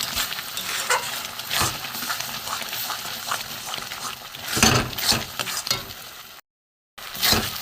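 Grated tender coconut with sugar and a crushed cardamom pod dries in a pan as it is stirred, producing a soft sizzle with repeated scraping and clinking strokes and a brief moment of silence near the end.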